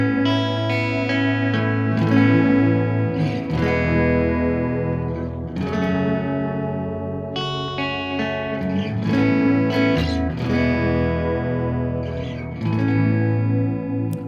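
Electric guitar played through a Boss DM-101 analog bucket-brigade delay pedal set to doubling plus delay, chords and single notes ringing with distortion, chorus-like thickening and repeating echoes, loud and continuous with no talking.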